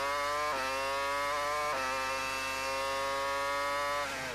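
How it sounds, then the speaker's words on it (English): Räikkönen's Formula One car at the 2002 Canadian Grand Prix, a loud, steady high-revving engine scream heard alone, with sharp pitch drops at gear changes and a brief throttle lift near the end. "You can hear how hard the engine works around this circuit."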